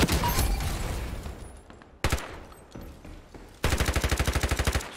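Gunfire in the video game Ironsight: sharp single shots at first, then a fast rhythmic automatic burst of about a dozen rounds, loud and close, with no talking.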